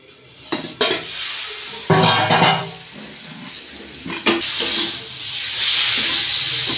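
A lid comes off a pan of kochu shak (taro greens) cooking on low heat, with a few sharp metallic clanks of lid and pan followed by a steady, rising steam hiss; no voices.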